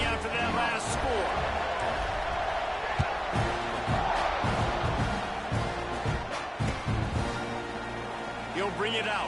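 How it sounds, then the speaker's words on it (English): A football stadium crowd buzzing after a score: a steady, dense roar of many voices with scattered whoops and thumps beneath, continuing under play-by-play commentary. "this crowd is buzzing after that last score"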